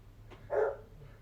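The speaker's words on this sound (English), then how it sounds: "And you hear my dog." A single short bark from a dog, moderately close, against a quiet low hum.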